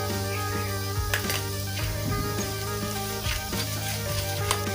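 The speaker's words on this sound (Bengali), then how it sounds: "তেল দিচ্ছি, টমেটোকে মেখে নেবো।" Oil sizzles steadily in a pan before tomatoes are mixed in, a dense continuous frying hiss with occasional louder crackles and spatter bursts throughout, close and loud.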